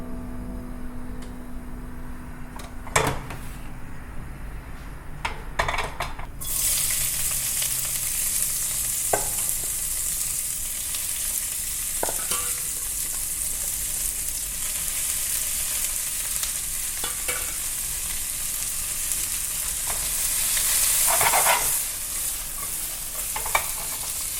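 Udon noodles frying and being stirred in a pan for a lobster noodle dish, a steady loud sizzle that swells after a few seconds, with scattered clinks and scrapes of the utensil throughout.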